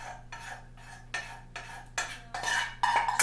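Warm vanilla honey mixture is added to a dry pumpkin flaxseed granola mixture, with repeated scraping and clinking of a utensil against a pan in regular bursts that grow louder toward the end, over a steady low hum.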